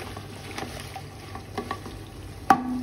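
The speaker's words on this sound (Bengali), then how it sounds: "এটাকে ভালোভাবে মিশিয়ে আমি এটাকে আরো 10 মিনিটের মতো রান্না করে নেব" Beef tehari with potatoes is stirred in a pot with soft, scattered scrapes and taps over a low sizzle, ending in one sharp metallic clank.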